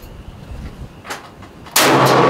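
A Yugo SKS rifle fires a single loud shot at an outdoor extended-range target, a sharp crack followed by a sustained, broad blast that holds to the end after quieter faint noises and brief mid-range bursts earlier.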